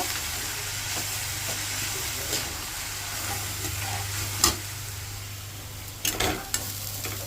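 Shredded cabbage for poriyal fries over a low flame in a pan, a constant soft sizzle with occasional scraping stirs and light clinks from the spoon near the end.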